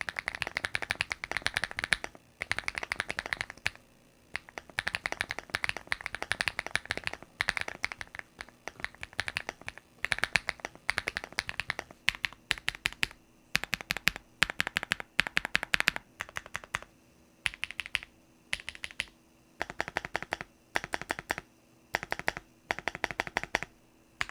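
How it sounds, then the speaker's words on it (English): Steady typing on a Kiboom Moonshadow V2 keyboard fitted with Kiboom Flick linear switches, dense runs of close, crisp keystrokes broken by short pauses, with no voices. "the default version comes with Kiboom Flick linear switches, and they're honestly a pleasure to type on"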